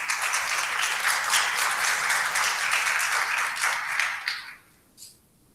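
An audience at a plenary session claps for a speaker, steady dense applause that thins out and fades near the end, with a final stray clap.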